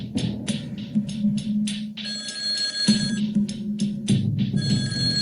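A telephone bell rings in repeated bursts, a steady electronic trill with short pauses between rings, loud and close with no voices over it.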